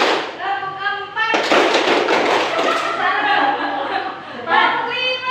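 Children clap their hands in a counting game led by a teacher, with voices calling out at the start and end and a short burst of several claps and laughter in the middle.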